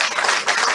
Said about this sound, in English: I like how they're clapping because they failed.